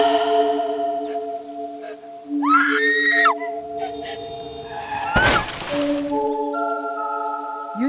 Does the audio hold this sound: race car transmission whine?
no